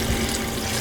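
Water running out of a water filter being washed, a loud continuous gushing stream close up.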